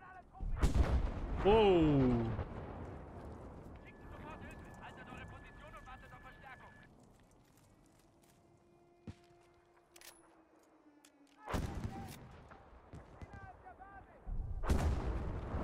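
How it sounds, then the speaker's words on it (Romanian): A barracks blows up in the video game Battlefield 5, with a loud blast followed by crackling debris and later renewed bursts. A voice exclaims and talks over parts of it. "Încă mai explodează chestia asta."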